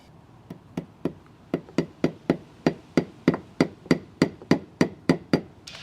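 Cable tacks hammered into a brick mortar joint, about fifteen sharp, evenly spaced hammer blows close by, speeding up slightly, with no talk.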